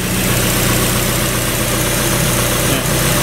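A Mazda Miata engine idles steadily in a garage, a loud, close, even rumble with a constant throb and no break throughout.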